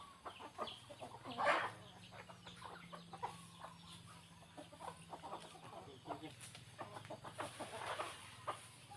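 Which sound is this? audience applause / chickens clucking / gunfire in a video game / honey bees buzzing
chickens clucking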